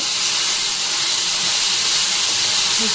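Sugar, ginger, garlic, onion, cumin and tomato sauté in a hot pan, giving a loud, continuous close hiss with no pauses.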